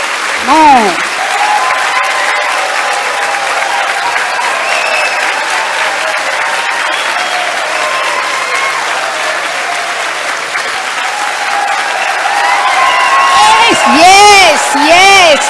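Loud audience applause goes on at length, a dense wash of clapping, with a few whoops and voices rising near the end, at a celebration of Dadi Janki's 100 years.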